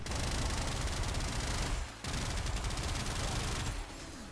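A gun in the video game Warframe fires in rapid, dense bursts, loud and close, and the stream stutters with a brief dropout and cuts midway.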